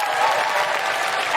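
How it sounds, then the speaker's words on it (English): Dense, steady applause from a live audience at a recorded comedy and charity podcast show, loud and continuous throughout the brief moment. "Can you please give a big round of applause to Hannah Rabathan from Shado,"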